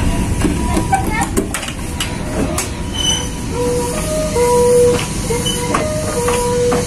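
The Cikuray train stands at Cimahi station with its wheels squealing in thin, drawn-out tones and brakes hissing, steady rail noise underneath, and voices talking nearby.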